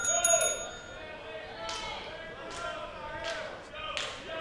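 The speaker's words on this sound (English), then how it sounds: "Stellar ring bell work by Stephen Hensley." A wrestling ring bell is struck several times in quick succession at a Ring Wars Carolina match. The metallic dings come over a busy arena with voices underneath.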